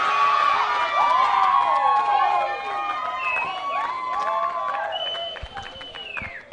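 Football crowd cheering after a goal at a VFL Women's match at Avalon Airport Oval, loud and sustained with excited shouts and clapping that slowly fade, while a commentator talks over it.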